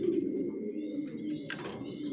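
A Janssen line grizzle racing pigeon hen, a down-shape bird sitting with new young, coos steadily and close, with low rolling notes that run through the whole stretch. A few faint chirps rise in the background.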